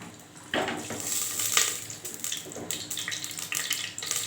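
Mustard seeds splutter in hot oil inside a clay pot, a loud close crackling and popping that starts suddenly and keeps going in uneven bursts, with no talking.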